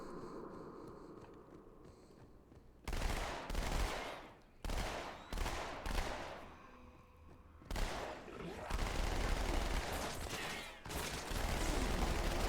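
SMG fire in Halo 2 on Legendary difficulty comes as repeated rapid bursts separated by short gaps, loud and close after a quieter start.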